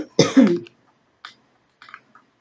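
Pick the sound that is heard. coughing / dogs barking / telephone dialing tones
coughing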